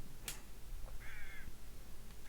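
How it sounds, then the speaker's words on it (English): Crows caw in a video game: one sharp, short caw, then a longer, harsher call over a steady low background hum, with no talk. "I hear ravens and crows"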